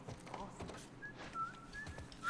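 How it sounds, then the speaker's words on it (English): A character whistles a few thin, wavering notes in The Last of Us, faint and intermittent over quiet background footsteps and ambience. "I'm whistling."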